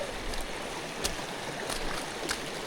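River water running over a waterlogged, ankle-deep walking path in winter, a steady broadband rush of flowing water with a few brief splashy surges, close and continuous with no talking.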